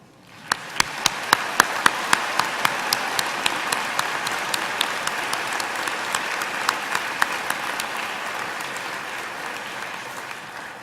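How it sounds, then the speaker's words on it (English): Graduation audience at Western Wyoming Community College's 2017 commencement applauding parents and families, a steady wash of clapping from a large crowd with a few louder individual claps popping out near the start, sustained and fairly even throughout. "Let's applaud the parents, spouses, children,"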